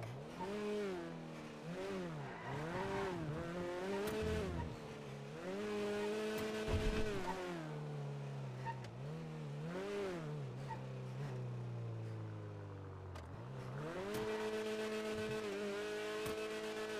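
Car engine in a GTA roleplay game, repeatedly revving up and shifting gears in rising, falling sweeps, loud and close, continuing for the whole stretch with no talking.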